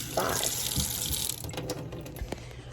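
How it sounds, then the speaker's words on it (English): A kitchen tap runs as an apple is rinsed under the stream, a close, steady splashing flow with brief changes as the fruit moves through the water. "we're going to take it over here to the water, and we're going to rinse for 5 seconds"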